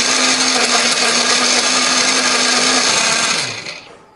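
Blender grinding turmeric, chili and coriander with a little water into a spice paste, a loud steady whirring drone that runs continuously before winding down near the end, with no talking.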